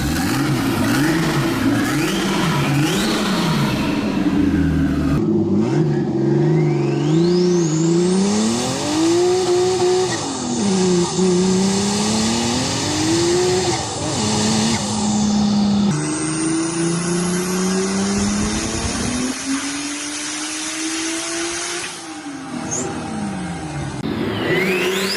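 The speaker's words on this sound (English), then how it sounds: "Lada, with 2JZ engine." A Lada car fitted with a swapped-in Toyota 2JZ engine revs loudly and close by, its pitch climbing and falling through repeated sustained sweeps with no talk.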